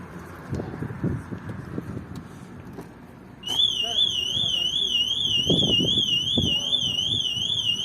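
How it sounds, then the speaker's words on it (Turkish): Scattered knocks and rustling give way to a loud 2012 Skoda Octavia anti-theft alarm that kicks in suddenly, a warbling electronic siren cycling rapidly and continuously up close. "Hırsızlığa duyarlı alarm özelliğimiz hem sesle hem de görsel olarak kumandanın açma tuşuyla kapatabiliyoruz."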